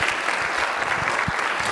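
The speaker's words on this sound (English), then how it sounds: "Can we give a round of applause to our panel?" An audience at a college information night claps for a panel, brief dense applause from a room full of people, steady and fairly loud throughout.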